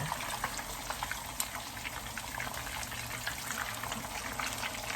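Steady, dense sizzling of sea bass frying in hot oil in a pan, continuous crackle and pops with no talking, fairly quiet and even throughout.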